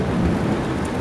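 A thunderstorm in Chopwell brings steady dense rain with a low rolling thunder rumble underneath, loud and continuous throughout the short stretch, with no voices.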